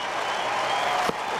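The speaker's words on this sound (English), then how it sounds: "give him a round of applause" Crowd at SuperSport Park cheering and clapping during a Ram Slam T20 cricket final, a continuous broad wash of applause from a distant stadium audience with one sharp sound near the end.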